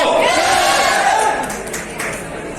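A team at an indoor training-program session in a hotel breaks into loud group shouting and cheering, a dense crowd roar that swells at first and then tapers off.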